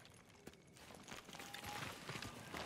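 Horse hooves clopping in Ghost of Tsushima, a quiet, steady run of soft hoofbeats that grows slightly louder over a faint outdoor backdrop.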